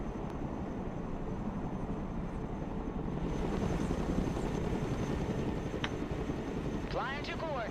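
A Chinook helicopter flies by in the video game Broken Arrow. A constant, droning rotor-and-engine rumble holds steady the whole time, with a short chirping tone late in the clip.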